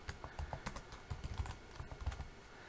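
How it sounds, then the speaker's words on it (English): Rapid, close clicking of a computer keyboard as a username and password are typed, with uneven bursts of keystrokes and no talking. "type in your username and your password"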